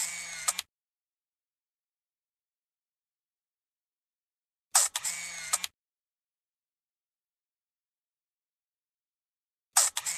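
Three separate cartoon camera shutter clicking bursts arrive at regular intervals, each a quick crisp snap sequence followed by several seconds of silence.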